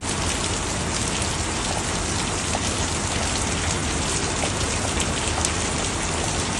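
Heavy rain pours steadily in the UAE, a dense, loud, unbroken hiss of drops with no voices.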